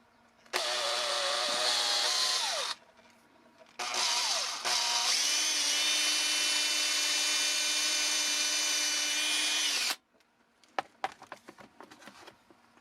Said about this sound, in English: So I just drill right through the hand.